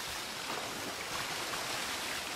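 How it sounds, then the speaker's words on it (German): Water rushes steadily at a water mill in the farming game Farming Simulator 2013, a continuous broadband flowing roar without breaks, fairly quiet and with no talk. "Die Wassermühle."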